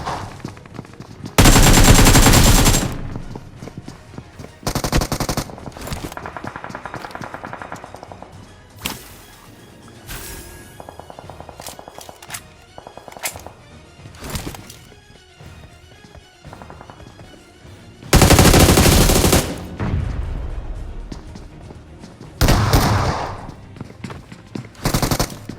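Gunfire in the mobile battle game BGMI during a solo-versus-squad fight, rapid automatic bursts and single shots in repeated loud clusters, mixed with game effects and footsteps.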